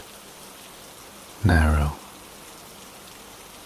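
Soft, steady rain falls as an even hiss throughout, while a calm voice briefly speaks a single word over it.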